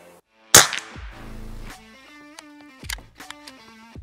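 A Kral Arms NISH PCP air rifle fires a single sharp, loud crack, followed by mechanical clicks and ringing metallic tones, likely from cycling the action.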